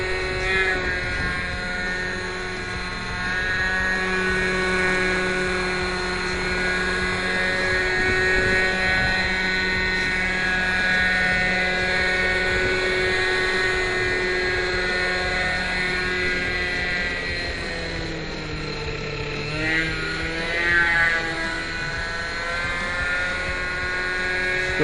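A Raptor V1 nitro RC helicopter engine held at throttle on the ground, running with a loud continuous buzzing whine that wavers slightly in pitch and dips near the end, close by with no talking.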